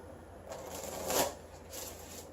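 Tarot cards shuffled by hand in a quiet room, a soft papery riffle that swells to a louder burst near the middle and then a lighter flutter, with no voices.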